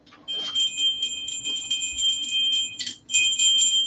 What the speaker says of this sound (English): Yeah, bear bell